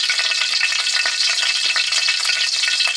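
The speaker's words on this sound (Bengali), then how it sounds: "সাদা তেল দিয়ে দিলাম" White cooking oil sizzles in a hot pan, a steady close crackling hiss throughout with no talking.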